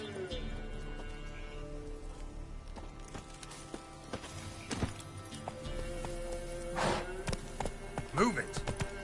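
Geralt's horse Roach plodding along in The Witcher 3: Wild Hunt on PS5, steady clip-clop hoofbeats under game music and ambience, with a few thuds and someone speaking over it.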